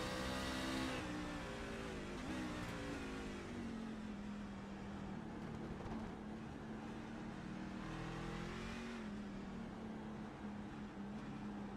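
Race cars lap a road course at Long Beach in iRacing, coming up on lapped traffic, with a steady, droning engine tone that shifts in pitch and holds loud and continuous throughout.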